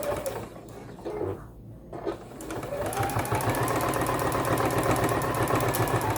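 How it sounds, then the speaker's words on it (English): A sewing machine stitching layers of fabric for a fabric sticky-note cover with snap closure, starting with a few short bursts and then settling into a steady, fast, even mechanical whir, close and fairly loud. "Same thing, just like when you're sewing all the layers together"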